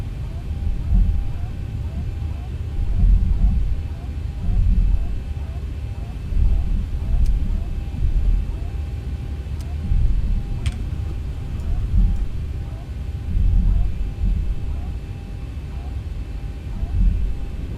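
Airliner engines in X-Plane 11 rumble low and steady on a winter runway before takeoff, with a faint regular ticking throughout and intermittent speech over it.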